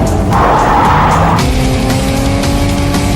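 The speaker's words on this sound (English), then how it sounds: "The Caterham is a light, agile sports car renowned for its performance and handling." A light Caterham sports car races with a sustained, loud tire squeal and skid over engine roar, continuous throughout.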